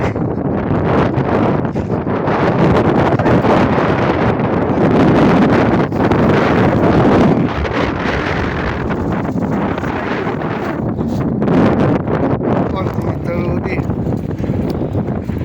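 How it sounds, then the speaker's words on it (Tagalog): Strong wind buffets the microphone continuously on a fishing outing by boat near Zamboanga City, a loud roaring rush with gusts, while people talk intermittently underneath. "Masyado malakas ang hangin"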